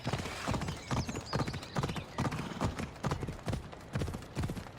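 Horse hooves clip-clop in steady repeated strikes in Assassin's Creed Odyssey, close and fairly loud, with a brief whinny-like sound in the mix and no talk.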